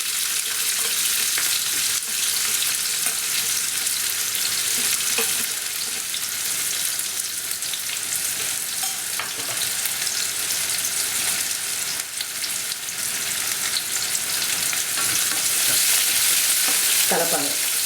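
Chopped onions, mustard seeds and cumin frying in 3-4 tablespoons of hot oil, a steady close sizzle with occasional stirring scrapes, continuous and fairly loud throughout with no talking.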